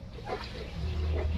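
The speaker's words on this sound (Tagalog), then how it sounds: "At meron silang mga alaga dito, mga aso din." Pet dogs in a backyard giving short yips and whimpering barks, fairly close, mixed with low rumbling and faint background voices.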